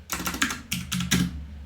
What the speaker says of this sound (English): you can really hear the clicking on this keyboard